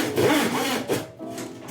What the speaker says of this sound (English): we are going to cut them using our saw.